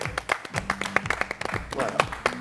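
Talk-show studio audience claps in a brief burst of applause, individual hand claps distinct and fairly close, with a voice talking over them.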